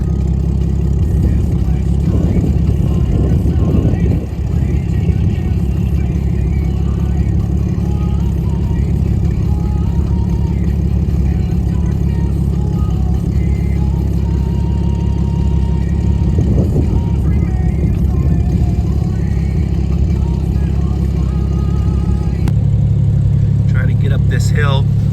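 Off-road trucks on 46-inch tires stuck in a three-foot snowdrift on a mountain hill, engines rumbling steadily with surges of revving throughout, loud and close, as people talk over the noise.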